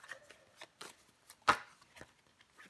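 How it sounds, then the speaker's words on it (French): Tarot cards are drawn and laid down on a table to cover another card, giving a few soft, brief shuffling and slapping sounds with one sharper snap in the middle, close and fairly quiet. "On va recouvrir des cartes"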